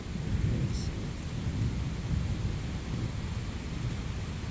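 Steady rain pours down with a low, continuous rumble of thunder underneath, a dense wash of noise throughout.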